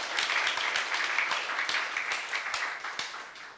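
Church congregation clapping together during a youth-service sermon, a steady wash of many hands applauding at moderate distance that fades slightly toward the end, with no talk over it.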